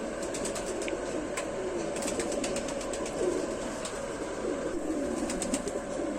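Rampuri pigeons come out in the fog, with soft cooing and fluttering wings over a steady background hum, moderately close and continuous with no talk.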